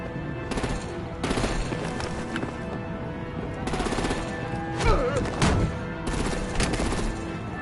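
Artillery gunfire in a Batman: The Enemy Within game scene, with repeated bursts of heavy firing in clusters over a constant rumbling backdrop, loud and close, and no voices.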